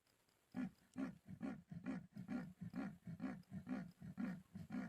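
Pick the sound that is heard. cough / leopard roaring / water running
leopard roaring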